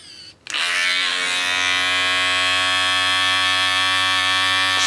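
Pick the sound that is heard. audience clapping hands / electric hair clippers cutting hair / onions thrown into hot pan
electric hair clippers cutting hair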